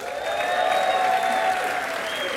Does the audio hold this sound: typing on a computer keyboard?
no